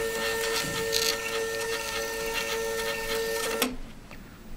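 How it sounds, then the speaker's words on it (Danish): A CAB wristband printer printing, a steady close whirring mechanical drone with a constant tone for several seconds before stopping abruptly. "printeren er klar til at printe"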